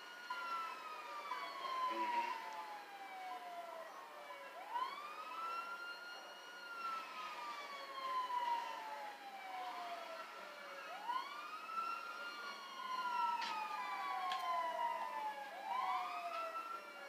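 Police siren in the GTA video game wailing in repeated rising and falling sweeps, steady and fairly loud throughout, with no talking over it.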